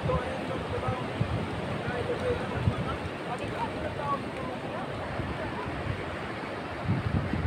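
Sea waves wash continuously along a beach at Silago, mixed with heavy wind rumble across the microphone and a few louder surges.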